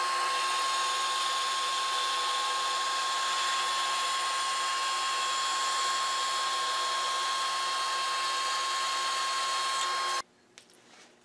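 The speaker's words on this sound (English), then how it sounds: "So that's my finished board coming off the bandsaw." A bandsaw cuts through a laminated board, a loud, steady high whine held for about ten seconds before stopping abruptly, leaving a faint low hum.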